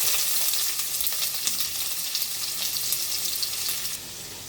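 Chopped onion fries in hot oil with whole garam masala and a bay leaf, a constant loud hiss and sizzle with faint stirring taps.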